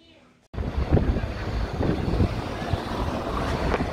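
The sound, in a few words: wind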